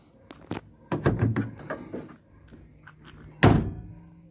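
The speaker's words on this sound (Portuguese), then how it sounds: "só colocar ela aqui com calma, ouvir os dois estralos e pronto" A Fiat Fiorino rear door lock snaps into place in a few sharp clicks and thunks, with one louder closing knock near the end, close by and with no talk.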